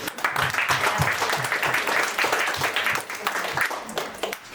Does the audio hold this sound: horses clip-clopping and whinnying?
no